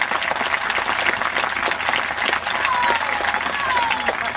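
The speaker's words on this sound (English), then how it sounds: "Well worth a round of applause." Dense round of applause from a crowd, steady clapping throughout with a few faint whistles mixed in.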